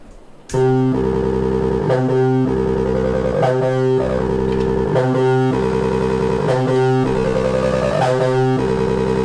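A loud Behringer TD-3 synthesizer run through an MXR Distortion Plus guitar pedal plays a repeating, pulsing bass sequence with a gritty, buzzing tone that holds steady throughout.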